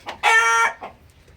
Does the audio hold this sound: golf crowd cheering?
no